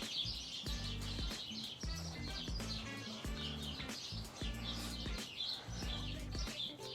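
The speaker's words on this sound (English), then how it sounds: "we got the birds chirping in the background over there" Faint birds chirp and tweet outdoors near a griddle where corned beef hash cooks, with repeated short calls over soft background clatter.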